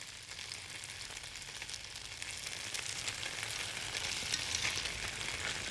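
Pot stickers frying in a pan with about a tablespoon or two of oil, browning on one side: a steady, close hiss and crackle of sizzling oil that holds constant and swells slightly toward the end, with no talking.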